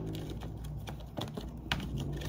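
Tarot cards being shuffled by hand in a quick, dry run of crisp riffling clicks and soft slaps, steady and close, with no one talking.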